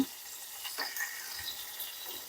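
Chillies, ginger and a pinch of asafoetida fry in hot oil, giving a faint, steady sizzle with a few soft stirring sounds and no talk.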